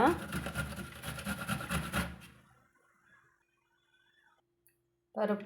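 Close, rapid rasping and scraping of coconut being grated by hand for about two seconds, then quiet, and a voice starts speaking at the end.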